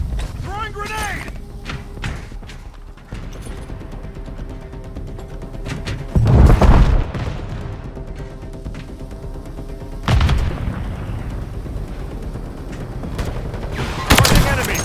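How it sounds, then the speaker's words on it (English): Grenade blasts and bursts of gunfire from a Call of Duty: Modern Warfare 3 battle, with deep booms at intervals over continuous rattling shots, mechanical clatter and squad radio chatter. "Throwing grenade."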